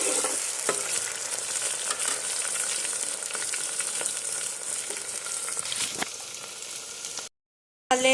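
Onions fry in a pan with a steady, close sizzle that is occasionally broken by soft stirring scrapes, and no voices are heard.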